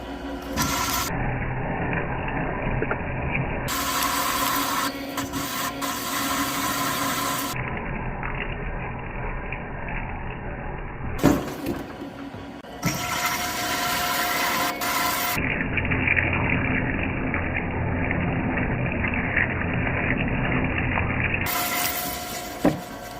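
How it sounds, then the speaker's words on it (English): A cylinder head machine re-threads bolt holes in a Toyota cylinder head with a loud, sustained mechanical whir and grinding that holds steady through long stretches, broken by a few short pauses and a clunk partway through. "So I got it in my head machine."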